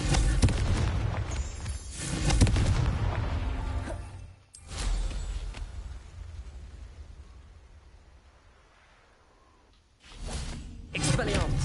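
Confringo fire spells cast in a Hogwarts Legacy duel, loud bursting blasts with whooshes, one long explosion decaying over several seconds before another heavy blast hits near the end.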